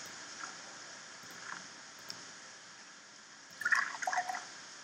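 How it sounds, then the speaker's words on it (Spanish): Faint trickle of water running from a tap in the video game Fran Bow, a soft steady hiss with a brief louder splashing burst near the end. "Abro el agua. Cierro el agua."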